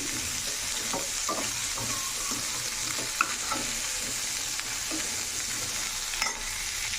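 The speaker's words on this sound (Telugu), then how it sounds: "మీడియం ఫ్లేమ్లో పెట్టుకొని ఇలా బాగా కలుపుకోవాలి" Bangalore brinjal chutney mixture being stirred in a pan over a medium flame, a steady dense sizzle with intermittent soft scraping of the spoon through the thick mix, no speech.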